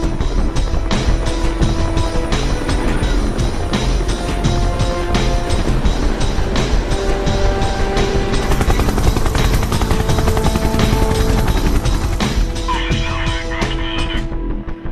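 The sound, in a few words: helicopter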